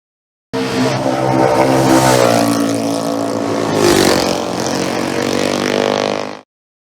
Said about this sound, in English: Edward Poole on his way to a good finish on his Manx Norton.